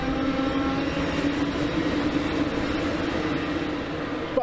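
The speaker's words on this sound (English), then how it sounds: "I don't think I've ever seen a passenger train roll in quite this" An Amtrak passenger train rolls very slowly into a station, giving a steady, dense rumble and hum with faint rail clatter, continuous and close for several seconds.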